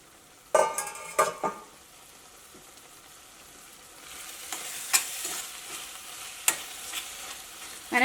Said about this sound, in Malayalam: അങ്ങനെ ഇളക്കിയിട്ട് കൊടുക്കുന്ന സമയത്ത് ഈ തക്കാളി ഇങ്ങനെ ഒരു സ്പൂൺ വെച്ചിട്ട് ഒന്ന് ഉടച്ചു കൊടുക്കാം